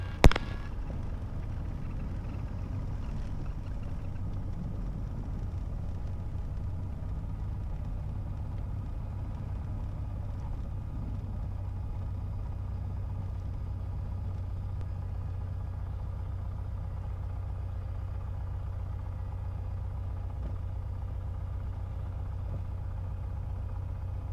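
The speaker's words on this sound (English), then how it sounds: "this is a heck of a gravel road I'm taxiing on" A small airplane taxis on a gravel road, its engine holding a steady mid-pitched drone and rumble for the whole stretch after a brief sharp knock at the very start, with no talking.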